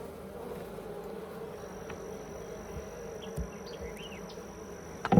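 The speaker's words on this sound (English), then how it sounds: "there's a lot of bees on it working it." Honey bees buzz steadily as they work a nectar-filled frame of a Layens hive, a dense, continuous close hum that holds even throughout, with a few brief knocks near the end.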